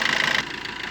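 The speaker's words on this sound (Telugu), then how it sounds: "ఇంజన్ కూడా సైలెన్స్ ఉన్నది, స్మూత్ ఉన్నది ఇంజన్" A 2013 Maruti Suzuki Swift VDI diesel car engine idles with a steady, even hum, slightly louder at first and then settling lower; no voices.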